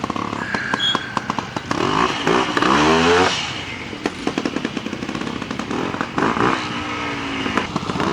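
A rigid-framed Royal Enfield motorcycle at a trial event at Hagg Farm, its engine loud and close, revving and popping in uneven bursts with rattling mechanical clatter.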